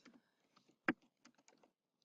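Faint, scattered clicks of a web address being typed on a computer keyboard, with one sharper keystroke standing out among quick light taps.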